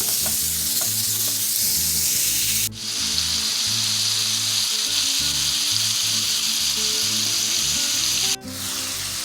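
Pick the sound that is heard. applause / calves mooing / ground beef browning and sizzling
ground beef browning and sizzling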